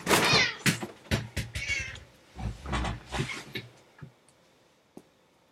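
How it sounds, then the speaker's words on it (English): A pet cat meows several times in a row, close and loud, with drawn-out, wavering cries that tail off into a couple of soft clicks near the end. "I have to show you my cat"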